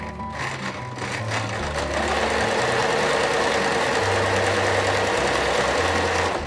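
An Empisal sewing machine stitching a bar, a close, steady mechanical whir with a rapid rhythmic chatter that holds evenly after a brief start-up, no talk.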